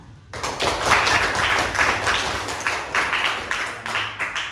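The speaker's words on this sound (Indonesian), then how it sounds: "Ya, kita beri tepuk tangan." Classroom applause for a student group during a lesson: a small room of students clapping together, steady and moderately close, with a few louder rhythmic bursts and a faint voice underneath.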